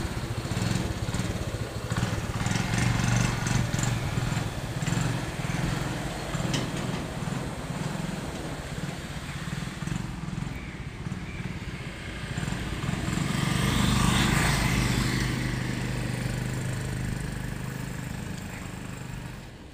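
A TVS XL 100 moped's small engine buzzes steadily while pulling a trailer during a test run, surging louder and then fading as it passes, with no voices.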